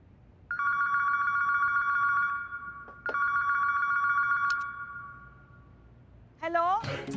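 A telephone at a women's police station in Lucknow rings twice in long, clear electronic trills, followed by a voice answering.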